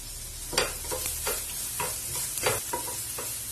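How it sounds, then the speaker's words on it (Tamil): Garlic sautés in butter in a pan, with a close, steady sizzle broken by several distinct scraping stir strokes roughly every half second; no voices. "பூண்டு லேசா வதக்கி விடுங்க"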